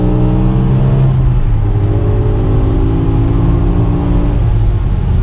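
A BMW E61 M5 engine drones steadily from inside the car on the road home, with a rising and falling mid-pitched engine tone and tire roar throughout, loud and close with no talk.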